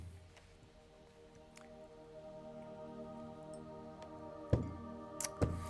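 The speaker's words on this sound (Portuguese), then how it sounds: "Um golinho de água para dar uma refrescada na garganta." A small sip of water taken to refresh the throat, heard as a few brief, wet slurping clicks near the end after a quiet stretch of soft room noise.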